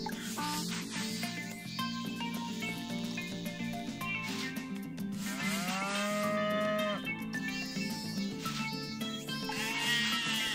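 Cows mooing in the farming video game Harvest Moon: Light of Hope, several long, drawn-out moos rising and falling over a steady background game music track.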